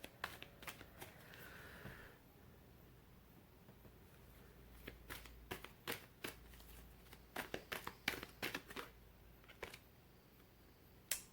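Tarot cards are shuffled by hand: quiet papery riffles and soft clicking snaps come in uneven bursts, close and faint, with no talking.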